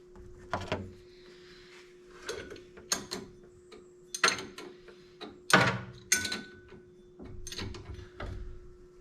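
A bolt is tightened into the end of a clutch shaft, giving a string of short metallic ratchet clicks and clunks at irregular intervals over a faint steady hum.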